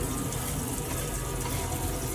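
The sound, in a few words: campervan water pump running as tap is opened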